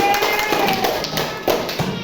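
Classroom clapping for a pupil during a school lesson, a burst of quick, uneven hand claps close by with children's voices mixed in.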